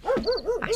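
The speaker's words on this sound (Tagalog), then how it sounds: "asino nga agpayso ti tataulan dagiti aso" Dogs barking in a rural village in Nueva Vizcaya, Philippines: about four rising-and-falling yelping barks in steady rhythm, fairly close and clear, with no talk.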